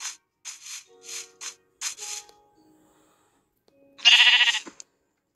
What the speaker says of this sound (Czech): O, ovečka.